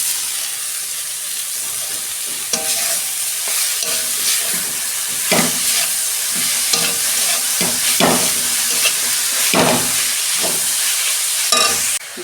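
Papaya goes into a hot pan with split green chillies for a coconut papaya dish, frying with a loud steady sizzle and hiss, broken by repeated spatula strokes and scrapes close up.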